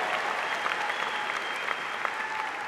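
Sustained applause from a large audience at a university commencement ceremony, steady and dense throughout with scattered louder claps.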